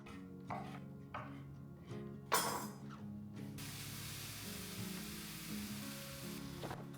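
Sliced turkey bacon sizzles steadily in a pan, a continuous close hiss with a few brief clinks and handling noises early on.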